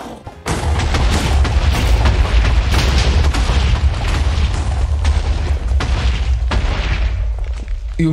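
Minecraft TNT explosions, a dense barrage of loud booming blasts with heavy low rumble that runs continuously for several seconds, with overlapping bursts and no clear pauses.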